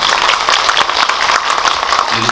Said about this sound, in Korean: 박수를 한번 좀 부탁드립니다.